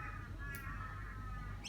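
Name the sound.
crows cawing in a park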